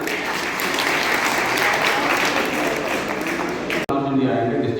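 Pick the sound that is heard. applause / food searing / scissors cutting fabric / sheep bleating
applause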